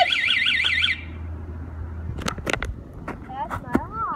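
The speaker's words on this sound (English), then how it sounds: "That's my alarm." An alarm sounds for about the first second as a loud, rapidly warbling electronic tone, then cuts off; a low engine hum follows and children's voices and shouts take over the rest.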